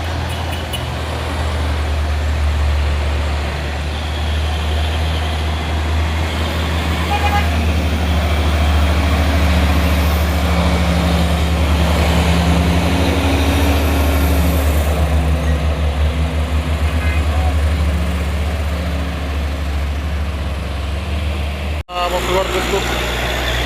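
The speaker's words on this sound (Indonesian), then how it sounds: "satu unit truk trailer Fuso tua pada sore hari ini." An old Fuso trailer truck labours up the Bukit Kodok hill, its loud, steady engine rumbling close by for the whole stretch before a brief cut near the end, while people talk over it.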